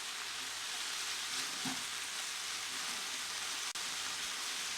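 About 200 grams of white mushrooms sizzle and fry in a pan while being stirred, a steady close crackling hiss with a brief scrape midway and a sharp click near the end.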